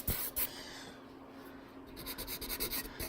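Oil pastels rubbed and blended on paper make a soft, steady scratchy rasp, quiet and close, with short repeated strokes quickening toward the end.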